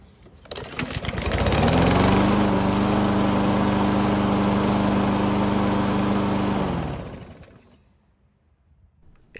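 A small engine runs steadily at close range, a loud continuous drone with a buzzy tone that holds for several seconds, then cuts off and fades into near silence.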